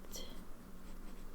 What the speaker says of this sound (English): a writing sample of the regular Architect